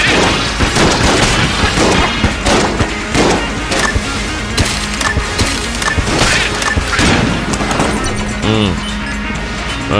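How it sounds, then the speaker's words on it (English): Destruction beam attack in the bullet-hell game Enter the Gungeon, a dense, loud barrage of booming blasts and crashing impacts layered over busy game music, continuous for several seconds. "Destruction beam."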